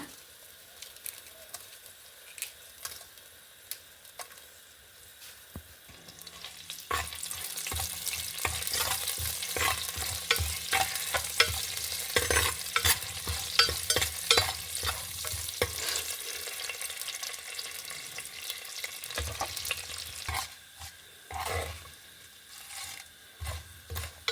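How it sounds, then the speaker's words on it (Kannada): Mustard seeds, urad dal and dried chillies temper in hot oil, starting as a faint crackle and swelling into a dense, steady sizzle with popping spatter, then easing off toward the end. "ಸಾಸಿವೆ ಒಗ್ಗರಣೆ ಸಾಮಾನು ಹಾಕೊಂಬ"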